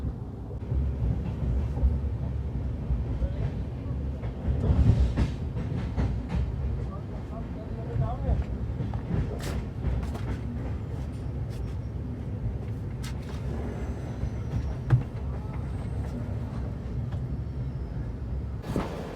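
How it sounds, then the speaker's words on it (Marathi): A Dhanbad–Firozpur Cantt Ganga Sutlej Express train rumbles steadily along the rails, a continuous low roar with occasional clacks and knocks, heard from inside a carriage. "फायनली ट्रेन आपली 1 तासाच्या डिलेनंतर सुटली आहे"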